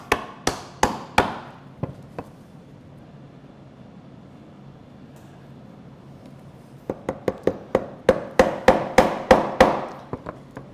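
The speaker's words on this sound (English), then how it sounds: "So if you just pare that off, that gets it all down to the same level" A chisel works a wooden stool joint, producing sharp, ringing knocks in quick bursts at the start and end with a quiet stretch between them, close by and with no voices.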